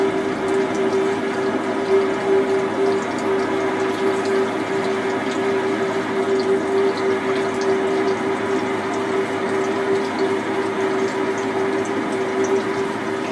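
Lathe parting off with coolant water flowing over the cutter: a steady, continuous wash of running liquid with a constant machine hum and a sustained whine throughout, close and evenly loud with no talk.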